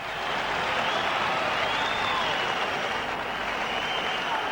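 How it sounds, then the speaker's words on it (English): A large Wembley boxing crowd roars steadily as Frank Bruno walks to the ring, a broad continuous wash of cheering and yelling that holds at the same level throughout, heard from a distance. "the Wembley crowd were yelling for him all the way to the ring"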